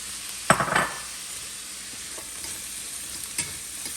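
Onions stirred in a pot for seafood bisque, giving a brief burst of scraping and sizzle near the start, then a low steady fry with a faint clink later; no talking.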